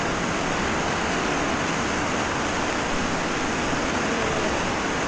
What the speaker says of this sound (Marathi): वरून पडणार आहे पांढरं शुभ्र पाणी